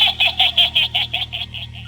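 Horror pumpkin mask sound effect from GTA Online, a rhythmic series of about ten warbling, squeaky pulses over a low steady drone, fading gradually toward the end.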